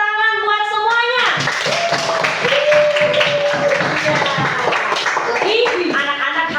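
Children clap in a church school classroom, a brisk run of handclaps mixed with young voices chanting and talking over it.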